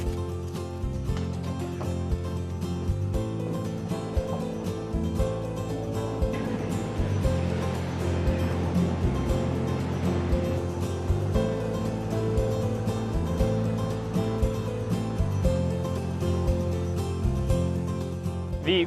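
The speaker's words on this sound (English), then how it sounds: "we're going to be taking a riverboat down the River Ural" A riverboat travelling down the Ural River in Kazakhstan, with a constant low engine drone and a wash of water and wind noise holding steady throughout, no voices.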